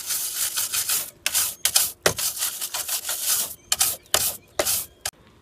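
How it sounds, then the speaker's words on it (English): Bursts of bristle scrubbing from a kitchen brush working inside the headlight cavity of a VW Beetle, brisk rubbing strokes in uneven runs with short pauses between, close and fairly quiet. "If the headlight cavity is dirty, you can clean it with your favorite kitchen brush."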